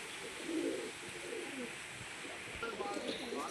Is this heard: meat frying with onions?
no